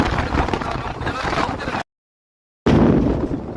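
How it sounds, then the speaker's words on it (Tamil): Strong gusts on the Velliangiri mountain trail batter the microphone with loud, rough rumbling bursts, broken by a sudden short silence before the buffeting resumes just as hard. "ரொம்ப காற்று, எனக்கு தெரியுது பார்த்தீங்களா, ரொம்ப காற்று."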